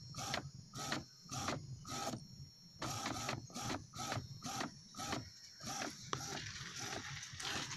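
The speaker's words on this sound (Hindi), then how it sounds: "लाइव भी देख सकते हो, प्रिंट होके आ रहा है।" An Epson L380 inkjet printer printing a photo, its print head shuttling in a steady rhythm of short mechanical whirring passes separated by brief pauses, close and fairly quiet.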